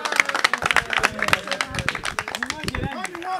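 A small group of people claps in quick, uneven bursts at a wedding gathering, sharp close slaps mixed with people talking and calling out over them.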